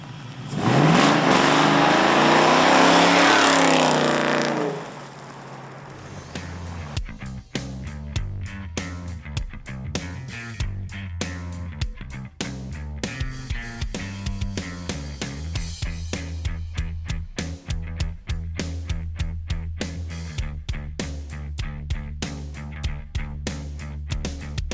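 An LS-swapped 1981 Camaro roars hard under acceleration at first, then settles into a loud, throbbing V8 drone with rhythmic gear and throttle pulses as it cruises down the road.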